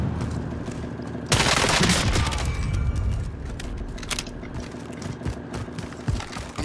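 Gunfire in Call of Duty Warzone, a sudden loud burst of rapid shots followed by scattered fainter cracks and mechanical game noise, with no talk over it.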